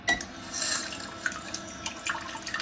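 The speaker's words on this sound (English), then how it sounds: "It rinses the wand." A TOTO Washlet C5 electronic bidet seat rinses its wand, giving a steady, close hiss of running water with small splashy bursts and no voices.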